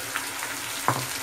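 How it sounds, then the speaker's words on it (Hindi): Curd goes into a hot pan of onion with browned ginger-garlic paste for a Hyderabadi vegetable biryani, giving a steady sizzling fry with a sharper spitting burst near the end, heard close with no talking. "ये देखिए अब हम इसमें दही डालेंगे।"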